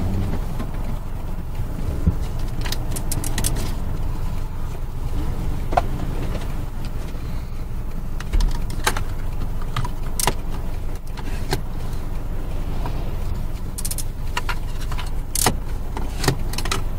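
A 2004 Ssangyong Chairman car is heard from inside on a test lap, with a steady engine and road drone and occasional small cabin rattles and clicks.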